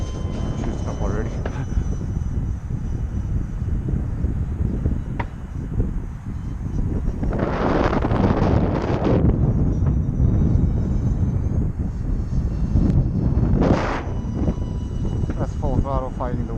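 E-flite UMX Citation Longitude, a small twin 30mm EDF radio-controlled jet, flying on a windy day: a thin, fluctuating ducted-fan whine rises in two louder passes over steady wind rumble, with a voice talking throughout.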